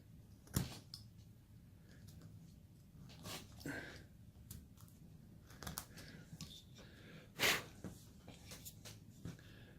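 A knife carves wood for a Santa figure, making scattered scraping and slicing cuts that arrive in short irregular bursts, with a couple of sharper, louder strokes standing out above a quiet room.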